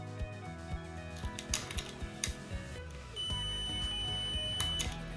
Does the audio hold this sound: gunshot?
no